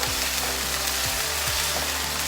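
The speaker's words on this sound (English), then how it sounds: "I'll stir the spices. Mix it well" Spices with half a teaspoon of garam masala and chili powder sizzle and fry steadily in a pan as they are stirred, with a few soft scrapes of the spoon against the cookware.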